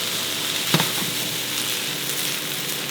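Seafood and pre-cooked rice sizzle steadily in a pan over medium heat for pilaf, with a single clack of a utensil early on and a continuous loud frying hiss throughout.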